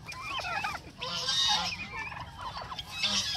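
Hybrid turkeys about five months old gobble and call repeatedly, several birds overlapping in a steady flock chorus at close range with no talk.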